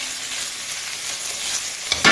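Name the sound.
capitaine fish slices pan-frying in a little oil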